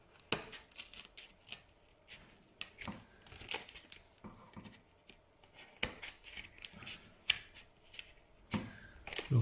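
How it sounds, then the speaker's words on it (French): Scissors snipping through cardboard while making an origami Christmas tree, a series of crisp, close, fairly quiet cuts in an irregular rhythm with small rustles of the card between them. "Je reprends les ciseaux."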